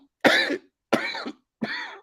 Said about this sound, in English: He's got that bitch cough going on